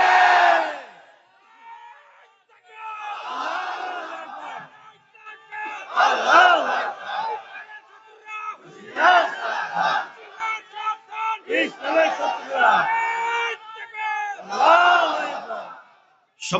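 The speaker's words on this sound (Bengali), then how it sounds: "সম্মানিত ভাইয়েরা, দাঁড়ান, স্লোগান আর দিয়েন না" Large crowd at a religious sermon chanting slogans in unison, loud rhythmic bursts of shouted voices separated by short pauses, repeating several times close and alone.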